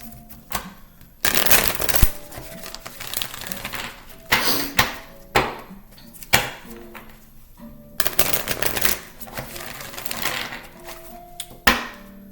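Tarot cards shuffled by hand, riffling and slapping in repeated bursts with short pauses, close and fairly loud with no talking.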